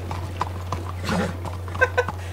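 Horse hooves clip-clopping on a street in the video game Red Dead Redemption 2, a few irregular, moderately close hoof knocks over a steady low hum.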